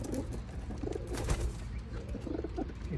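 Teddy pigeons in a loft coo in soft, low repeated bursts, close by and overlapping, with faint rustling and wing movement around them.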